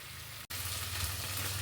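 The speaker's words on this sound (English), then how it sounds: "transferred my food to this side on the gas. So it's here cooking." Beef stew cooking in a pot on a gas stove gives a steady sizzle and bubbling hiss, briefly cut off by a short gap before it carries on at an even level.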